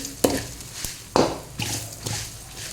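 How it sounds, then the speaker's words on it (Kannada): Mustard seeds and nine dried red chillies frying in hot oil for a tomato saaru: a few sharp, close taps and stirring scrapes over a faint sizzle. "ಆಮೇಲೆ ಒಂದು ಒಂಬತ್ತು ಒಣಮೆಣಸು ಇವಾಗ ಫ್ರೈ ಮಾಡಿಕೊಳ್ಳುವ ಚೆನ್ನಾಗಿ"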